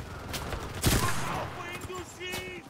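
A machine gun fires in a World War era shooter game, brief rattling bursts at mid distance mixed with other game noise and someone talking over it.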